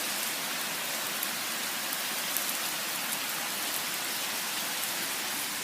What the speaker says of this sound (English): It's been a steady downpour and thunderstorms.